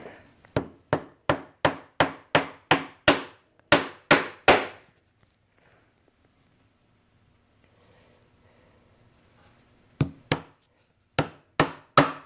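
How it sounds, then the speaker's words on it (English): Sharp hammer strikes on a punch through leather, in quick, regular bursts, a run of about fifteen blows, a quiet pause, then several more hits. "I could just punch in these hole locations"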